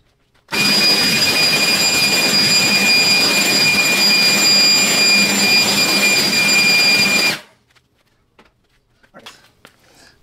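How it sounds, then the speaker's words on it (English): A loud, steady roaring whine from a leaf blower drying off a car wheel after cleaning, lasting about seven seconds close up, then cutting off abruptly to quiet with a few faint clicks and movements. "Let me leaf blow it down real quick just to make sure."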